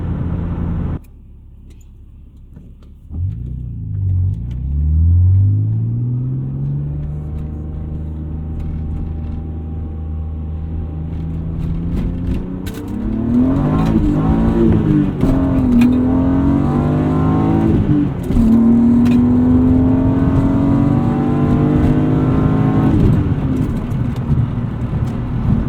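A 260,000-mile BMW E36 M3 driving on the road, engine idling low before pulling away and climbing through gears with rising and falling revs, a steady interior drone of engine and road noise throughout.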